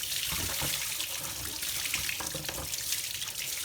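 Running water rushes steadily over a dirty Diamond Master water filter being rinsed at home, a continuous close splashing hiss from a tap with no pauses.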